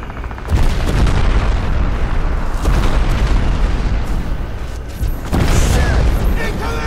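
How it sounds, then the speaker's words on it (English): Heavy artillery explosions in the video game Crysis, a rolling series of loud, deep booms and rumbling blasts filling the scene, with a voice shouting faintly under the barrage. "Explosions."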